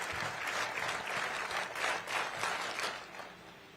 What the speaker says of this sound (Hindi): एक बार तालियों के साथ आप उनका स्वागत और अभिनंदन करें।